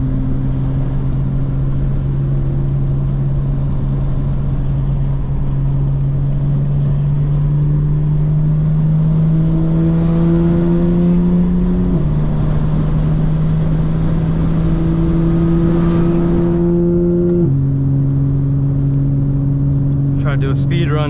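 A modified 2025 BMW M4 Competition engine drones steadily while driving. Its pitch climbs gradually and drops twice at gear changes, a loud, continuous interior sound over road noise.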